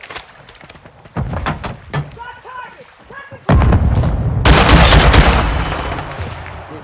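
Loud gunfire and heavy explosions in Call of Duty: Modern Warfare II, with rapid weapon bursts, booming impacts and dense sustained firing that swells toward the end, while soldiers' voices call out amid the battle.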